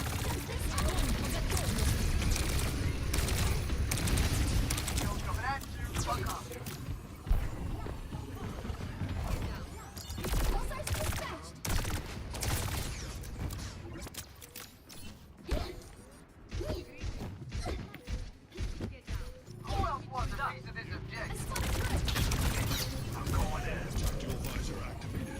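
In Overwatch 2 gameplay, a turret fires in rapid mechanical bursts amid dense game effects, whooshes and crashes, continuous and loud throughout, with a player talking over it.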